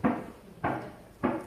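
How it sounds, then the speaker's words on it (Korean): During a church sermon a preacher raps on a hard surface, making three evenly spaced knocks about half a second apart, close and moderately loud, with no talking over them. "제가 노크를 하면 여러분의 영혼에 들리셔야 됩니다."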